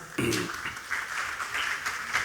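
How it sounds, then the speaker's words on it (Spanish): An audience applauds to welcome a speaker at an energy-transition and decarbonization conference, a modest, fairly quiet patter of clapping from the room, with a brief voice at the start. "Lo recibimos con un aplauso"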